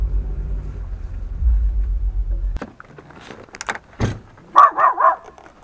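Dogs bark in a few sharp bursts in Francisco Sá, Brazil, after a low engine rumble cuts off, with several quick barks close by near the end.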